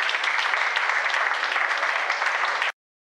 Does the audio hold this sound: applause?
yes